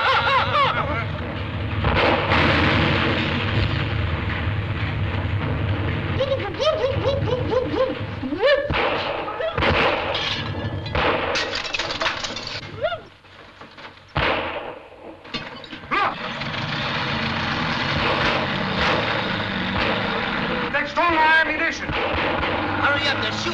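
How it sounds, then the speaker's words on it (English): Gunfire from a firing squad in a Three Stooges comedy film sound effect, a loud continuous barrage of shots and blasts over roughly twenty seconds, with engine-like rumble and a brief lull midway. "Hurry up, they're shooting at us."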